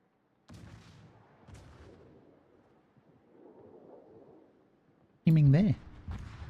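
Naval guns boom in World of Warships, a sharp close blast near the end after low rumbling distant gunfire, with someone talking over the action.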